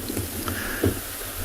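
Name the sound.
gust of wind blowing into microphone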